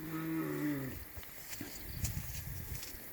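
A cow or buffalo gives one long, low moo at the start, loud and near, then fades into scattered shuffling and faint footsteps.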